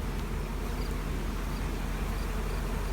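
Honey bees buzz continuously around a yard of hives with tarp covers, a dense, steady drone of many insects close by with no voices.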